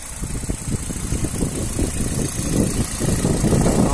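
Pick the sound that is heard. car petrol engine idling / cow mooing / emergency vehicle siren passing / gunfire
car petrol engine idling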